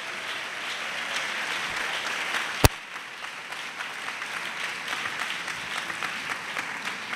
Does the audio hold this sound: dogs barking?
no